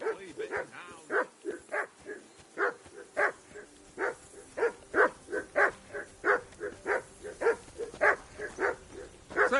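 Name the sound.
dog barking in video game Kingdom Come: Deliverance II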